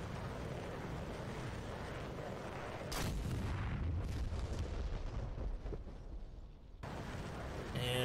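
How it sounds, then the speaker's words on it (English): Simulated cruise missile strike in DCS World, a heavy rumbling blast that cuts in sharply and roars for several seconds before abruptly dropping off, with a loud broadband explosion texture. "And there's cruise missile number one."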